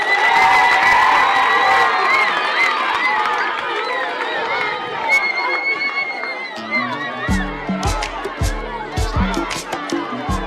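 A school crowd at an albinism awareness event erupts in cheering and shouting children's voices, loud and close, with clapping and chatter; toward the end rhythmic drumming or stamping joins the noisy hubbub.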